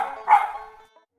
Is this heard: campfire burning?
no